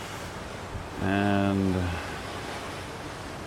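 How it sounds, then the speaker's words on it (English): Wind rushes steadily across the deck of a cruise ship in foggy weather, a constant broad roar through the whole stretch, with a person briefly speaking in the middle. "it is pretty windy. It is blowing the phone on the gimbal"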